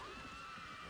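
A horse neighs in the 2000 film Gladiator, heard as one sustained whinny lasting about a second at moderate level, with no talk over it.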